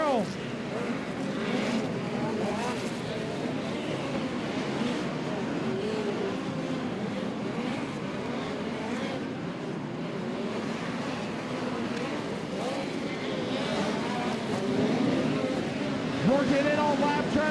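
POWRi midget race cars run three wide into turn one at Port City Raceway, their engines a continuous rising and falling roar under an announcer's steady commentary.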